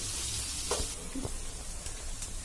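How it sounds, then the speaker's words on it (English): Onions frying in a pan with fenugreek powder for a garlic fish curry, giving a steady, fairly faint sizzle with a couple of soft stirring scrapes and no talk. "I want it to fry along with the onions"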